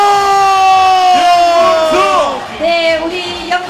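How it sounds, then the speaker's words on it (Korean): At a South Korean presidential campaign rally in Yeongcheon, a crowd roars and whoops loudly, with sustained shouted voices rising and falling for several seconds. "김문수 대통령을 위해서 김문수 함성!"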